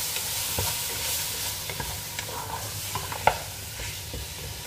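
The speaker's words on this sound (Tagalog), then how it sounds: "I-fry lang natin hanggang mag-dry siya. Mag-dry yung water sa hipon." Shrimp frying in a hot pan with yellow ginger, a steady close sizzle broken by occasional stirring clinks and scrapes, with no voices.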